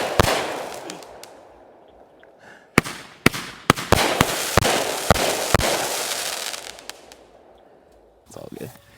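A large consumer firework assortment goes off outdoors, with a crackling, fizzing rush punctuated by a series of loud, sharp breaks in quick succession, then fading to a short trailing crackle; voices are heard faintly at times.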